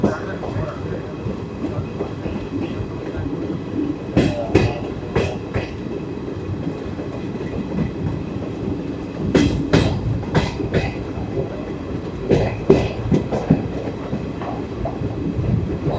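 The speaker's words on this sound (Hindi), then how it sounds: "अपनी गाड़ी इटावा स्टेशन पर अराइवल कर चुकी है।" Netaji Express train running into Etawah station in a sleeper-class coach, a loud continuous rumble with repeated clickety-clack bursts of wheels over rail joints heard from inside the moving train.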